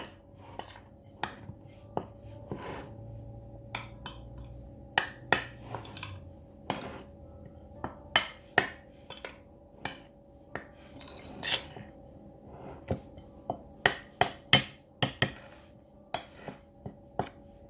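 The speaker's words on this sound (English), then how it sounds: "let me just give this a stir around here" A spoon stirs fruit cake mixture in a bowl, knocking and clinking against the sides in an irregular run of sharp, close taps over a faint background hum, with no one talking.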